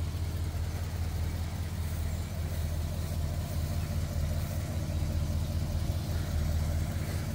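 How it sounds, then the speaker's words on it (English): The engine of a 1964 Oldsmobile Dynamic 88 runs at a steady low rumble, close and even throughout, with no talking over it. "I'll shut my mouth so you can hear the engine run."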